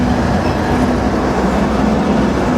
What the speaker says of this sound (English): I just switched trains in Alliance, Nebraska. This one started pulling out right when we pulled in.